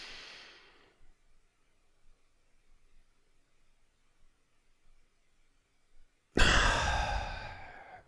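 Deep, audible breathing during a seated neck stretch: a soft exhale fades out at the start, near silence follows, then one loud, close, sustained inhale that slowly tapers off.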